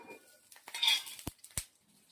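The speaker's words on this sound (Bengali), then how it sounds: "এটা ভালো করে মিক্স করে নিচ্ছি।" A metal spoon stirs Kashmiri chilli powder and yogurt with nigella seeds and green chilli in a pan, giving soft scraping followed by two sharp, close clinks against the metal.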